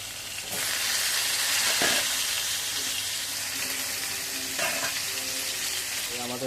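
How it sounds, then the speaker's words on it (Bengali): Potatoes frying in oil while being stirred, a loud continuous sizzle broken by a few scraping stir strokes, with no speech over it. "আমাদের আলু ভাজা হয়ে গেছে, আলুগুলো তুলে নেওয়া হচ্ছে"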